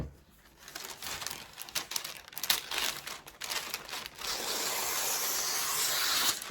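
Parchment paper being handled and crinkled while covering a Cricut or Silhouette craft print, close and irregular rustles building into a steady, dense crinkling that fills the last few seconds.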